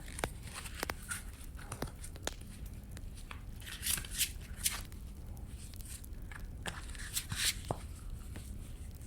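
Tarot cards slide and rustle softly in a continuous shuffle, with scattered light taps and flicks, close by and fairly quiet.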